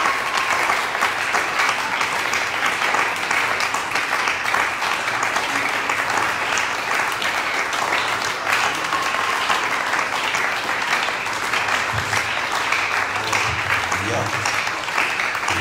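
A church congregation applauds loudly and continuously, a dense wash of clapping hands that fills the space, with voices calling out beneath it.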